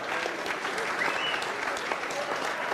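Steady applause from a crowd, dense and continuous throughout, with a few faint voices mixed in.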